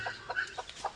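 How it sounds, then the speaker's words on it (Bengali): A hen clucks beside her ten newly hatched chicks, giving a series of short, nasal clucks in quick bursts, close and clear, with no talking. "এই যে আমাদের মুরগি আর মুরগির বাচ্চাগুলো"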